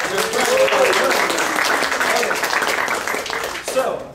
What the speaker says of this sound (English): Give yourself another big hand of applause.